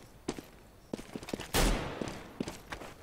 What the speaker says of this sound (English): Then Nephon with a very ranged shot gets DC right, or DC Hellhound right